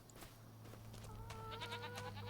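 Goats bleating in Farming Simulator 25, a couple of faint wavering bleats over a low steady hum of game ambience, with no talk.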